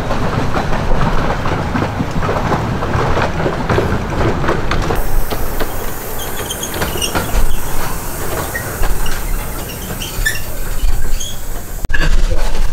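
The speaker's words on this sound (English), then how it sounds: "We're on the train." A miniature train runs through Lappa Valley with a steady clickety-clack of wheels on the track, squeaks and some hissing. It sounds loud and close throughout, with a short clunk near the end and no clear talking.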